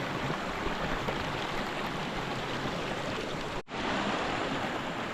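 Clear creek water rushes steadily and fairly loudly in a continuous broadband wash, with one brief dropout near the end.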